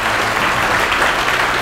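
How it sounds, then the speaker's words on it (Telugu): Students and staff clap loudly together at a school welcome program in Gandhi Nagar, a dense, steady wash of applause that fills the whole short moment without any voices. "చప్పట్లతో గట్టిగా స్వాగతం పలుకుదాం"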